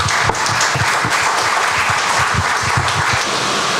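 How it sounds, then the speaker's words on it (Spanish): Loud, close applause from the audience at an Expoactiva 2023 agricultural talk, many hands clapping in a rapid, steady patter with distinct individual claps standing out near the microphone. "Un aplauso para toda esa gente."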